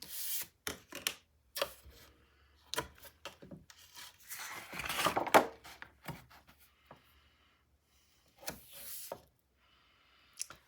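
Half-inch tape being pulled and pressed around the edge of a 10 x 9 mini album, a series of short dry rubs and rasps with pauses, close and fairly quiet.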